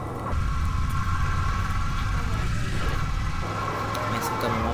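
A Lamborghini in the video game GTA San Andreas drives away toward San Fierro, its engine a steady low drone that holds throughout, with someone talking over it.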